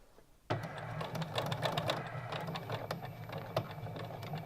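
A sewing machine stitches a strip of fabric bunting, starting abruptly and then running in a fast, steady mechanical chatter with light rhythmic clicks, close and continuous throughout.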